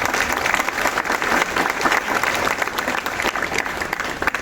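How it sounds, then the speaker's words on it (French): An audience at a Chagall exhibition event at the Musée de Vence applauds the museum's new curator, with steady, dense clapping close and loud across the whole stretch. "je voudrais qu'on l'applaudisse"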